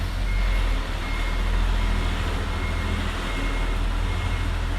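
A 2020 Isuzu truck reverses with a loud, steady engine rumble close by, its thin, high reversing beeper chirping at intervals over the drone, with no talk.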